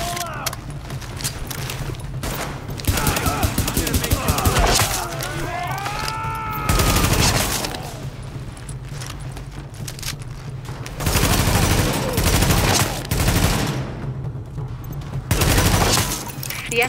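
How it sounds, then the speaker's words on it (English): A rooftop gunner fires on an escort in The Division: bursts of automatic gunfire come in repeated waves, loud and sustained, with sharp impacts, whining ricochet-like tones and a low background drone between volleys. "The escort party's taking heavy fire from the roof."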